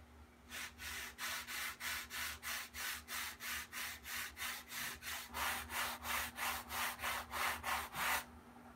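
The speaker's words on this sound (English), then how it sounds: "we'll just sand to it to square it up" Wood being sanded by hand to square up a cowl for a Tucker, a steady back-and-forth rasping of even, rhythmic strokes, close and fairly loud, with a faint hum underneath and no speech.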